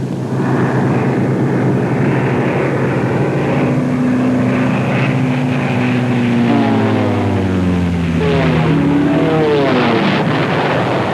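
Propeller-driven Lightning fighter planes on a wartime bombing raid drone loudly, their engine tones rising and falling as they pass and overlap, with a continuous roar throughout and no speech.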